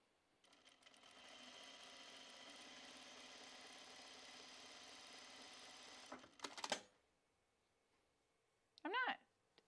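A domestic sewing machine runs steadily for about five seconds while topstitching a dress, then comes a few sharp mechanical clicks, a pause and one brief clatter near the end.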